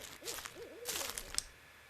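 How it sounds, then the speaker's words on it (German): An eagle owl hoots in the Slender horror video game: several wavering low calls rise and fall over about a second, moderately loud and close, with crisp high clicks and rustles scattered alongside. "Ist das ein Uhu gewesen?"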